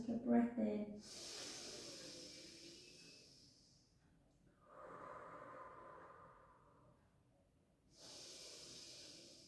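Deep breaths drawn in during a breast cancer rehab exercise class: three soft, airy inhalations, the first longest and the others after short pauses, close and quiet, with faint voice sounds at the very start.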